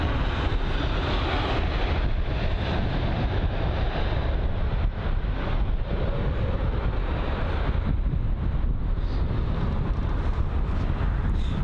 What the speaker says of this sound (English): And just arriving now, the Lufthansa A320neo.